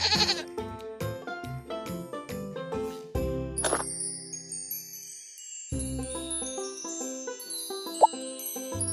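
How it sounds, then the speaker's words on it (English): A goat bleats amid a bright, tinkling children's-game jingle, with the music carrying on throughout and a single ding near the end. "Goat."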